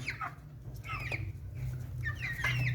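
Light Brahma chickens cluck in short rising and falling calls, several overlapping close by over a steady low hum, with no voices.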